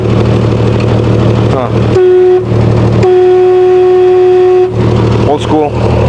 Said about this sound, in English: Old school honk